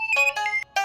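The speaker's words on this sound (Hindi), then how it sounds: "फोन आया, देखना।" A phone ringtone plays a short bright melodic phrase of sustained electronic tones, clear and fairly loud with a brief gap near the end, in a household setting with no talk over it.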